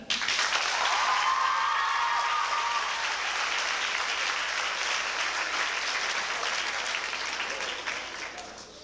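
A crowd applauds at a school awards ceremony for presidential academic scholars, sustained dense clapping that holds steady for several seconds before fading, with a brief voice murmuring early on.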